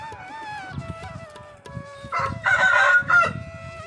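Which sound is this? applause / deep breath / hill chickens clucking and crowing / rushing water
hill chickens clucking and crowing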